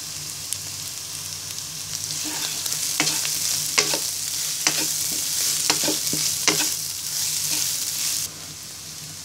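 Vegetables and chicken fry in a pan as noodle seasoning is stirred in, making a constant loud sizzle with repeated sharp scrapes from a spatula, then it quiets slightly near the end.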